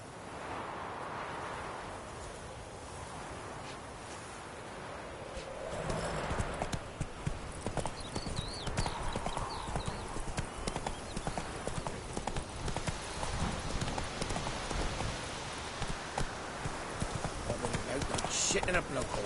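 The horse Roach's hooves clip-clop steadily in The Witcher 3, starting softly and then sounding in a faster, louder trot. Faint speech sits underneath.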